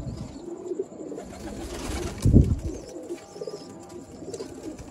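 Sialkoti pigeons coo softly and repeatedly nearby, their low throaty calls overlapping against a faint background hum.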